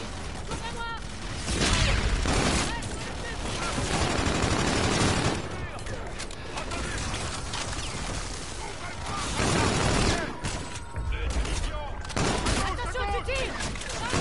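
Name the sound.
gunfire and grenades in a war video game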